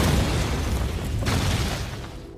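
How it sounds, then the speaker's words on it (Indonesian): A film explosion roars in a broad, sustained boom that stays loud for the whole moment and tails off slightly at the end, with no voices over it. "Selanjutnya Johnson menembak tepat ke arah Swigger dan tiba-tiba terjadi ledakan."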